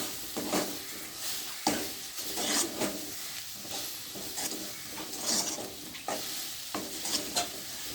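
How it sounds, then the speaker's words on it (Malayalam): Soya balls tossed with chilli powder in a hot pan, a soft ongoing sizzle broken by repeated scraping stirs and light clinks of a spoon against the pan, fairly quiet and close. "കുറച്ച് മുളക് പൊടിയും കൂടെ ഇട്ട് നമ്മളൊന്ന് വഴറ്റാം."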